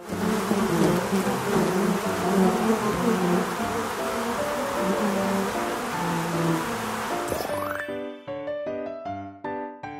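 A queen bee buzzes in a loud, steady, close drone that cuts off near the end, where bright chiming tones take over.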